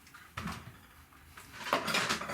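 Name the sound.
chopping board being set down in a kitchen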